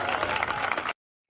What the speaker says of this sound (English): Think about all these people that are clapping and amening.